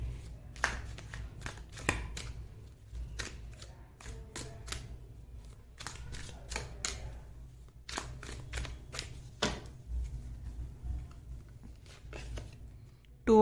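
Tarot cards are drawn from a deck and laid out, giving a string of soft, irregular card slaps and brief shuffling rustles close by over a low background hum.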